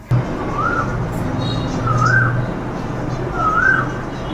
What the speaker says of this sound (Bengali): কোকিল ডাকতে আছে,